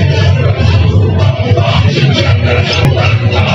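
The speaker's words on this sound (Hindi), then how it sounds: "भीड़ बहुत ज्यादा हो रही है।" A large, dense crowd jostles at the gate of Achaleshwar temple in Gwalior on Shivratri, a loud continuous roar of many voices with shouting rising from the mass throughout.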